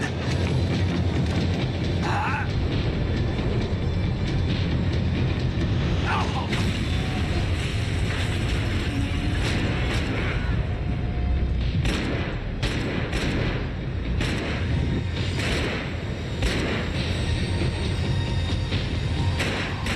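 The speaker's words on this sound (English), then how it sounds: "The tram was slowing down, and I'd only just gotten on board." A tram in the video game Max Payne 3 slows down, giving a loud, constant rumble and mechanical grinding with scattered metallic clanks and bangs throughout.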